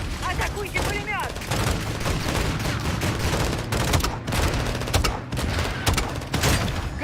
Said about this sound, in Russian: Пулемет справа! Солдаты, атакуйте пулемет!